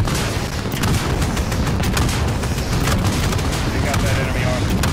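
Guns firing in the video game Call of Duty Modern Warfare, a loud, dense wall of rapid fire and booming over heavy combat noise, with radio voices mixed in.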